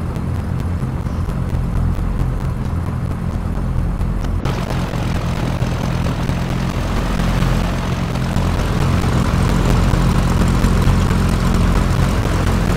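A propeller airplane's engine idles and rumbles steadily while the aircraft prepares to taxi at an airfield, with a continuous loud drone that thickens noticeably partway through as the engine note rises.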